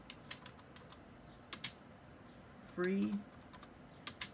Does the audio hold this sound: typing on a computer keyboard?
yes